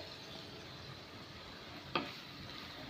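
Finely chopped onion fries in oil for Goan choris pao, a faint, steady sizzling hiss with one sharp click near the middle.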